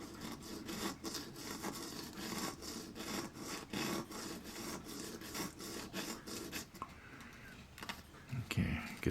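Hand sawing of wood on a model ship makes a quick, rhythmic rasping of repeated back-and-forth strokes, moderately close, ending in a few louder bumps and handling noises.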